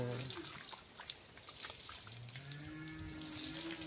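A cow at a village home lows with a drawn-out moo in the second half, heard close and clear over faint dripping water and light background activity.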